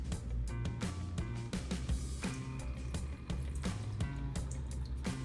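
Water spilling over from an overfilled Froze clear ice ball maker, a continuous splashing, dribbling flow with irregular drips and clatter, close and fairly loud with no voices.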